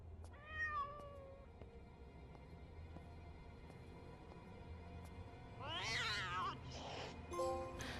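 A cat in the horror video game Frightence meows several times, with one short meow early and a burst of louder, strained yowling calls near the end, all faint against a low ambient game hum.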